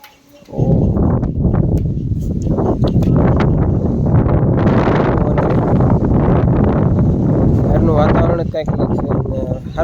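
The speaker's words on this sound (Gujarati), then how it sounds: "બહુ પવન છે" Strong wind buffets the microphone outdoors at a family home, a loud, steady roar that lasts nearly ten seconds and buries faint voices beneath it.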